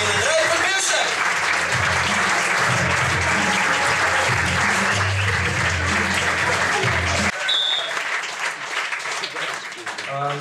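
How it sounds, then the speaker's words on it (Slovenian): At a stand-up roast show, the audience breaks into loud applause for comedians Sašo Stare and Andrej Podbevšek, thick sustained clapping with music underneath that cuts off after about seven seconds, leaving the clapping to thin out. "Tako da dajmo en velik aplavz Sašo Stare in Andrej Podbevšek."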